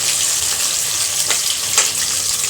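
Bitter gourd pieces deep-frying in oil, a close, loud, continuous sizzling hiss with a few brief crackling flares.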